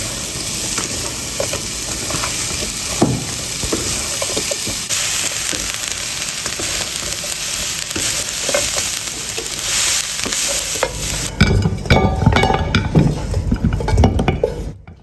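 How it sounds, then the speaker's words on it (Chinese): Fried pork ribs and diced chili are stir-fried in a dry wok over high heat. A loud, steady sizzle runs throughout, and busier clanks and scrapes of the spatula tossing the food come in toward the end. "开大火翻炒"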